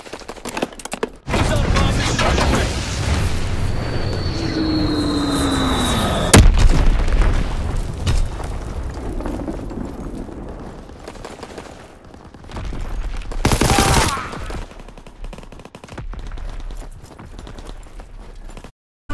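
Incoming gunfire and artillery in Call of Duty WW2, with dense, loud bursts of rifle and machine-gun fire and booming impacts, a whistling projectile, and a heavy blast partway through, then quieter scattered fire.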